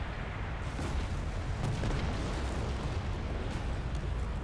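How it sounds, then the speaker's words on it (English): A heavy explosion in the Deserts of Kharak strategy game makes a dense, continuous rumbling roar with booming low end that stays loud throughout, with no talk. "Yeah, that's quite an explosion, isn't it?"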